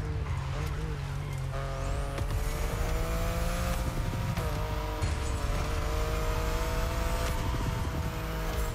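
A BMW i8 races in The Crew Motorfest video game with a loud, steady engine drone and shifting pitch, tires and passing cars mixed into the continuous roar.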